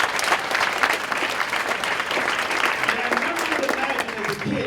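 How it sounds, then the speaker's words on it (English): Steady crowd clapping from teenagers at an education conference, dense and continuous throughout without pause. "Can I get a hand clap for that?"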